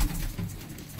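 Pigeons in a lot of about 45 birds offered for sale near Faisalabad, Pakistan, coo in low, overlapping throaty murmurs that run steadily through the second, close by and moderately loud, with no voices.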